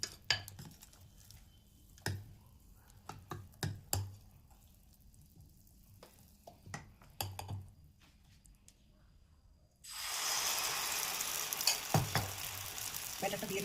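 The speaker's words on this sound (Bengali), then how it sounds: "ব্যাটারটা দিয়ে দিয়েছি, ঢাকা দিয়ে দিলাম।" Bun dosa batter mixed with Eno goes into a hot pan and is covered. Scattered clinks and stirring taps come first, then a loud, steady sizzle bursts in and continues with occasional clanks.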